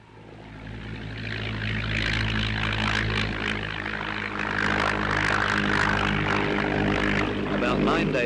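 Steady droning propeller airplane engine in Antarctica, loud and continuous throughout, with voices faintly mixed underneath.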